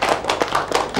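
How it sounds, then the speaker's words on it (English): A classroom of young children claps together in a burst of dense, fast, uneven hand claps, loud and close, filling the whole second without talk. "Give them a big clap."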